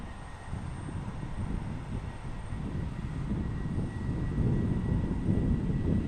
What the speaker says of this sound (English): Here comes our Southwest 737 departure right here.